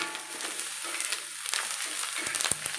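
Fish roe frying in a covered pan, lid lifted and stirred, giving a low crackling sizzle with scattered scraping and tapping of a spoon close by, no voices.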